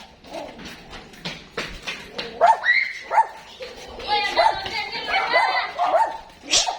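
A dog barks and yips in short bursts at a lively Betawi ondel-ondel street performance in Bekasi, with children running and shouting around it, the barks mixed in with talk and street noise.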